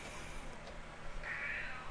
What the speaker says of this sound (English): That's my cat behind me. He was wanting some attention